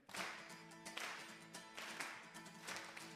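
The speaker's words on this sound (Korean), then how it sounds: "저 따라서 박수 한번 쳐보시겠습니다" Church congregation clapping hands together during worship, a faint, loose burst of overlapping claps that swells and fades in several waves, heard from a distance in a reverberant hall.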